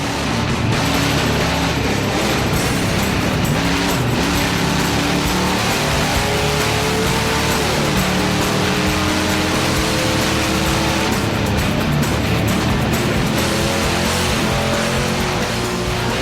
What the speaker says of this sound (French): Il fait monter son moteur en régime.